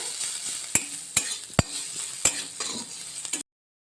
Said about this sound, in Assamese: ক্যাপসিকামখিনি আৰু ধুনীয়াকৈ ফ্ৰাই হৈ গৈছে